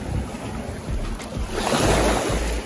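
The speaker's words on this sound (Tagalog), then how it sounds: "Masyadong malakas ang alon." Strong ocean waves wash and surge nearby, mixed with gusty wind buffeting the microphone; no talking.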